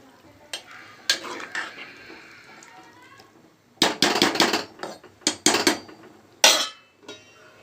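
Meal maker biryani mixture with basmati rice is stirred in a pot: scattered scraping and clattering strokes, louder bursts of several quick spoon scrapes near the end, no talk.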